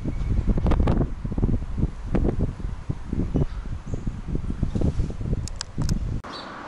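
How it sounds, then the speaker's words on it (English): Wind blowing outdoors beside a large gum tree in the town of Angaston in the Barossa Valley, Australia, gusting and buffeting the microphone in continuous rough bursts, with rustling and a few faint bird chirps. "a bit windy here"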